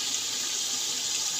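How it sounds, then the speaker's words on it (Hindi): Water pours steadily into a cooking pot for Muradabadi chicken biryani, filling it with a continuous close, even rushing splash with no talk. "अब इसके अंदर मैं डाल दूँगी पानी"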